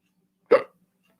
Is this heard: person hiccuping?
yes